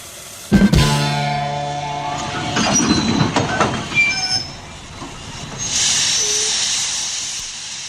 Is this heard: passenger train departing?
yes